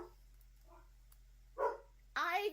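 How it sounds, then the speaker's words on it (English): Dogs bark a few times indoors, short muffled woofs spaced apart and then a louder closer burst at the end, over a faint steady hum. "don't know what my dogs are barking at."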